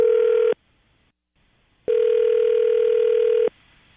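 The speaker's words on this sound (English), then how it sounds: "The hardest part of these is me dialing phone numbers." After a number is dialed, a telephone line rings out with a clear steady tone, one short burst, a pause, then a longer burst, clean and alone with no talk.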